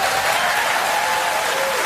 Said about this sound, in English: Even the cover gets applause.